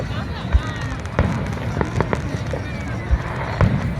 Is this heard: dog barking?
no